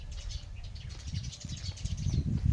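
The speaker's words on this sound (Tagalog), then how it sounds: "Wow, ang ganda ng huni ng ibon." Birds chirp high in the trees on a walk outdoors near pine trees, a soft layer of light tweets over a steady rumble of wind or handling noise close to the microphone.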